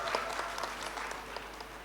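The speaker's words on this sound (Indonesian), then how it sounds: "Tepuk tangan dong." Audience applause at a talk during Pasar Kolaboraya 2025, a steady burst of clapping lasting about two seconds, moderately loud and fairly even throughout.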